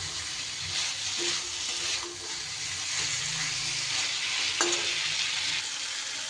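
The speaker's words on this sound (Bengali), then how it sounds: "এবার ভেজে রাখা সবজিগুলো দিয়ে দিলাম। সবজির সাথে মশলা মিশিয়ে নেব।" Fried vegetables are stir-fried with spices in a pan for a fish curry with drumsticks, giving a steady close sizzle broken by a few sharp scrape-and-clatter strokes of the spoon; no voices.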